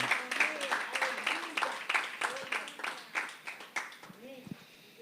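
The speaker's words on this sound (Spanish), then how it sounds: "Denle un aplauso al Señor." A church congregation applauding during a sermon, scattered claps running under the preacher's continuing speech, fading somewhat toward the end.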